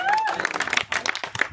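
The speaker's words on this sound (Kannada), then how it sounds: "ಅರ್ಜೆಂಟಲ್ಲಿ ಅವನಿಗೊಂದು ಚಪ್ಪಾಳೆ ಇರಲಿ" Short burst of audience clapping at a theatre group's poster launch event, mixed with talk and crowd noise, brief and moderately loud.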